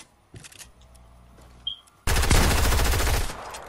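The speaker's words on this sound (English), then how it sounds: "No way, this kid's hitting all these shots on me." Dense, loud burst of rapid automatic gunfire in a console shooter game, beginning abruptly after quieter game sounds and continuing nonstop for over a second as shots strike the player.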